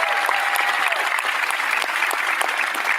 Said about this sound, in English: Big clap for them.